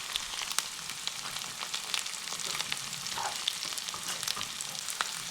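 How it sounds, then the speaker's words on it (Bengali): Chopped onion frying in a wok for street-style chicken Maggi after ginger and garlic, giving a steady close sizzle with light stirring clicks and scrapes throughout. "তো আদা রসুনটি কিছুক্ষণ ভাজা হয়ে গেলে এরপর দিয়েছি পেঁয়াজ কুচি।"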